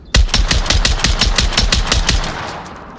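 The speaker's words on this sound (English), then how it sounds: "It's an SKS from the hip, one shot, mag dump into the box next to it." An SKS rifle emptied in rapid semi-automatic fire in the VR shooter Onward, about a dozen loud, sharp shots in a fast, even rhythm, the last ones tailing off into a brief echo.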